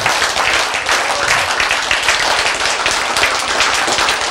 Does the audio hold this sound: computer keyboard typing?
no